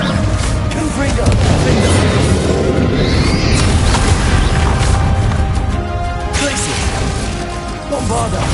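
Confringo fire spell cast in Hogwarts Legacy, a loud continuous stretch of booming blasts and crashing impacts over game music and effects, with a voice talking throughout.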